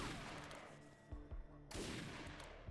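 Video game gunfire rattles in a loud dense burst, breaks off, then resumes as another heavy volley.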